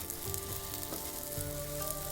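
Vegetarian kebabs fry in a pan just after being flipped over medium heat, a steady, dense sizzle that stays close and even for a couple of seconds with no talking.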